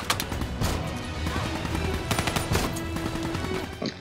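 Rapid automatic gunfire and scattered shots in the Black Ops 3 campaign, dense bursts running steadily throughout with a few louder cracks, set against game music and ambient battle noise.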